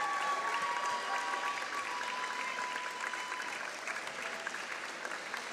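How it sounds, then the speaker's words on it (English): Steady applause from a crowd at a girls' state basketball third-place game, a continuous dense wash of clapping that fills the whole stretch without any voices over it. "Let's give them another round of applause."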